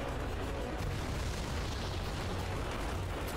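Mortar blasts in Resident Evil 6 pound in a continuous, loud barrage of booms and rumbling bursts, with dense low-end roar throughout and no talking.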